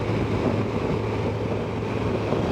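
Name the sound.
strong wind at a seaside camp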